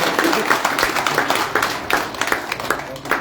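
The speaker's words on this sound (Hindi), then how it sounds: "एक बार मोदी के लिए जोरदार तालियां तो बजा दीजिए" A crowd at an open-air political rally in Nakodar market, Jalandhar, claps for Modi: brisk, rippling applause from many hands that holds steady for several seconds, with voices faintly mixed in.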